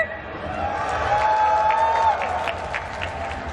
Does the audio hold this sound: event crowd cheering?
yes